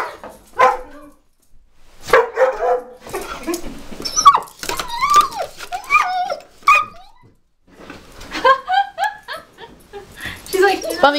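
Dogs bark, yip and whine outdoors in the snow on a deck. The sharp barks and high whimpers come in irregular bursts at close range, varying in loudness.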